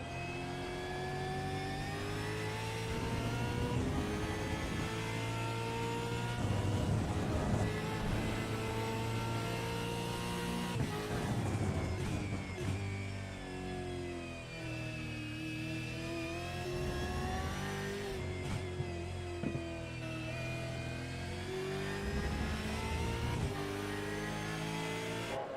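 Close and loud, a V8 race car engine heard from onboard at the Red Bull Ring climbs and falls in pitch through repeated gear changes and lifts over about twenty-five seconds, with no voices.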